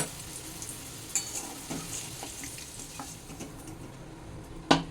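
Potato pieces fry in hot oil with salt and turmeric, giving a steady sizzle broken by a few sharp clinks and scrapes as they are stirred in the pan. No voices.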